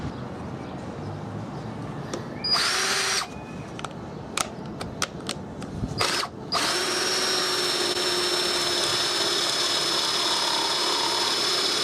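A power drill with a hex-shank, self-feeding spade bit boring a hole, starting with short bursts and taps, then settling into a loud, steady high whine from the close drill that runs to the end.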